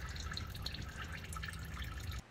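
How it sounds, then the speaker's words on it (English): Transmission fluid drips and trickles from the oil pan of an Audi A6 C6 during a fluid change, a steady close liquid pattering with low rumble underneath, stopping just before the end. "it wasn't dripping at all before, and now we're getting a little more out"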